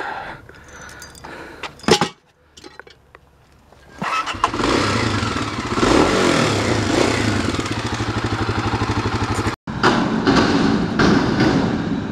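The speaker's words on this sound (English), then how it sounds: "He can't carry that on a motorcycle." A motorcycle carrying a lawn mower on a metal-scrapping dumpster run starts up after a few knocks and clunks, then idles and revs loudly nearby with a steady engine drone, briefly cut before resuming.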